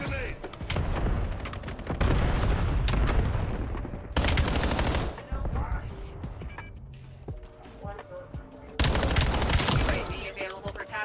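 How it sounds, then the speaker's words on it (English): Cluster grenade blasts in the Black Ops 7 video game, several loud bursts of rapid, crackling explosions mixed with gunfire, separated by quieter stretches in which voices talk. "Throwing cluster grenade."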